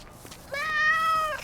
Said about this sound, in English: No, go away, little cat.